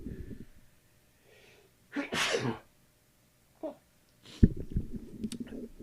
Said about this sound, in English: 'Tis the season for the sneezing.